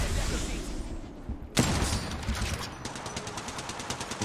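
Rapid gunfire bursts in Apex Legends Mobile, a sharp shot followed by a quick rattling volley of automatic fire, loud and close.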